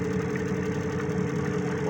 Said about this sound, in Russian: Малеха прогреется, моторчик.